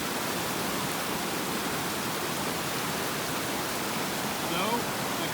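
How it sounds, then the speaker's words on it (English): Rushing water of Slide Creek just below the campground in Jasper National Park, a steady, dense broadband roar that holds constant throughout, fairly close and with no talking. "Now this is Slide Creek."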